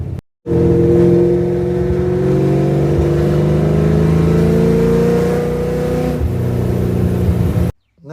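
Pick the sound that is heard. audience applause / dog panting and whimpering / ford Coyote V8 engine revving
ford Coyote V8 engine revving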